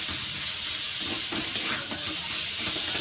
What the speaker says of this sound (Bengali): এইবার সেদ্ধ করে রাখা বাঁধাকপি দিয়ে আবার ভালো করে কষিয়ে নেব।